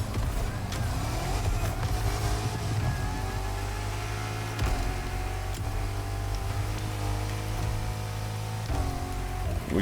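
A Dodge SRT Demon muscle car from the racing game The Crew Motorfest drives with a continuous, low engine drone that rises and falls in pitch through gear changes, steady and fairly loud for about ten seconds.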